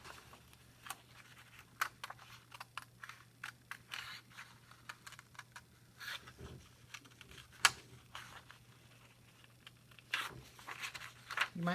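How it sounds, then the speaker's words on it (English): Quiet, irregular snips and crisp paper rustles, close by, with short pauses between cuts and a faint steady hum underneath. "And very carefully, I'm going to cut out that shape."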